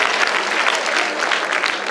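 A crowd applauding a correct quiz answer, a brief, loud, even burst of many hands clapping with no speech over it.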